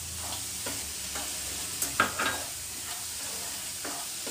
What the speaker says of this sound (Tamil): நண்டியும் சேர்த்து நம்ம இப்போ இதல நம்ம வரக்க போறோம்